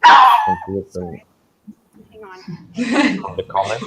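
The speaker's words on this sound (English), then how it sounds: "That's the dog." A dog barks a few times in quick succession close by, followed by people talking.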